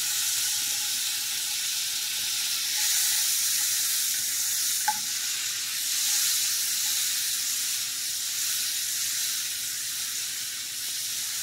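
Apples sizzling in melted butter in an iron skillet, a steady bright frying hiss that swells and eases slightly, with one faint clink partway through and no talking.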